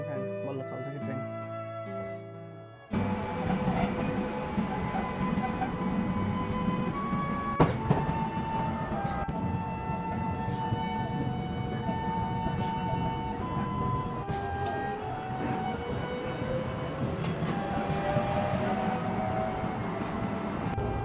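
A passenger train in Japan sets off and runs, producing a steady low rumble and rolling rail noise with faint tonal hums and an occasional squeal, heard from inside the carriage after a quieter opening with a voice over it.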